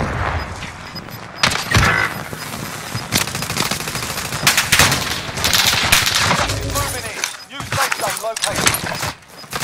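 Bursts of automatic gunfire in a multiplayer shooter game, loud and repeated in clusters with brief lulls, mixed with game effects and someone talking over it.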